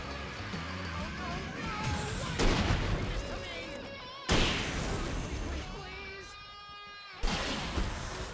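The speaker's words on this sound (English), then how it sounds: "Well, that was a waste of a flashbang." A flashbang grenade goes off in Alan Wake Remastered, giving sharp broadband bursts with ringing tails among other game noise and gunfire-like hits.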